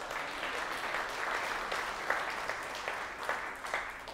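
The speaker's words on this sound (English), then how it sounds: "can you please join me in another big round of applause for Emma?" A university speaker-series audience gives a round of applause for a speaker, a fairly quiet but steady patter of many hands with a few sharper claps poking through, no talking over it.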